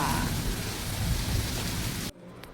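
Heavy rain pours down steadily as a loud, dense wash of noise that cuts off abruptly near the end, leaving a faint background.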